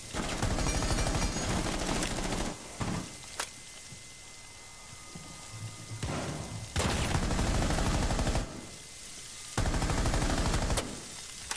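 Bursts of automatic gunfire from hip-fire shooting in the tactical shooter game Rainbow Six Siege, loud and close, arriving in several sustained volleys separated by brief quieter gaps.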